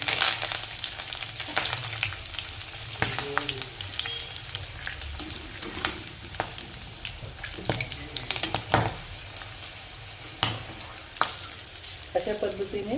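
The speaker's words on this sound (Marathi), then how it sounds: "अशा पद्धतीने तळून घ्यायचं आहे" Chickpeas for chana koliwada fry in hot oil with garlic, curry leaves and green chillies, a steady close sizzle broken by sharp pops and crackles throughout.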